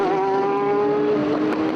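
Race cars on the Rockingham circuit near Dean Hairpin, with a TVR leading the pack, make a loud, continuous engine roar whose pitch stays steady, then shifts slightly as they pass close by.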